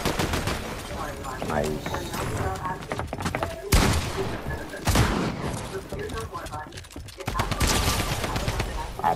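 Rapid gunfire in the video game Fortnite Chapter 5, dense bursts of shots with a few heavy blasts, sounding close and loud under brief casual talk from players.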